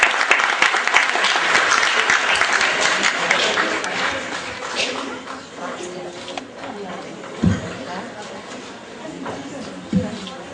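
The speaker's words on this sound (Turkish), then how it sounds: "alkışlarınızla sahneye davet ediyoruz" Dense, sustained audience applause welcoming a Quran course hymn group on stage at a 2014 Kutlu Doğum celebration. It is loud at first, then thins and fades, with a few scattered thumps later.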